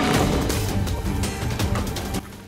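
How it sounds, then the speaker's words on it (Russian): Shaken Coca-Cola bottle bursting outdoors, a loud spray and crackling rush with sharp pops and splatter over a couple of seconds, fading toward the end. "бомбанем сейчас несколько бутылочек кинем, и она взорвется"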